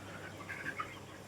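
Chickens on a poultry farm with the house half emptied, giving a few faint, scattered clucks over a steady background hum.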